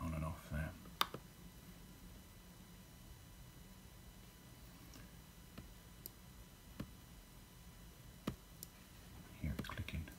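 Sharp, isolated clicks from a smart switch relay toggling on and off sound at irregular intervals against a quiet background, with brief murmurs of voice at the start and end.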